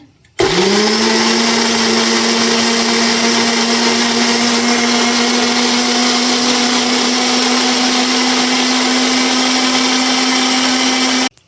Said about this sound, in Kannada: ಗ್ರೈಂಡ್ ಮಾಡ್ತಾ ಇದ್ದೀನಿ.